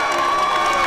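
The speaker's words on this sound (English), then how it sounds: "The crowd is into it." A crowd cheers and shouts during a pizza acrobatics show by the US Pizza Team in Toledo, a brief sustained roar of voices under music.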